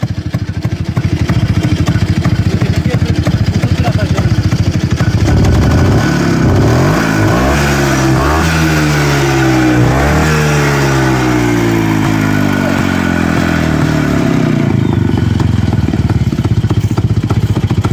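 A moped engine runs loudly up close with an idle that will not hold steady, revving up and down in rising and falling sweeps through the middle before settling back to a rough, uneven run.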